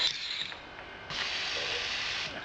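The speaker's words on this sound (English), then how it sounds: "you pull that and that feeds your CO2. Yeah, give it about a 2-second burst." A steady mechanical hiss of CO2 escaping from a gas bleeder valve while bottling beer from a fermenter, stepping up louder partway through and holding as a sustained spray before easing off.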